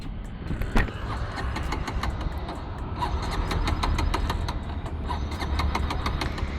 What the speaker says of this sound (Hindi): बिल्कुल भी बाइक स्टार्ट नहीं हो रही है।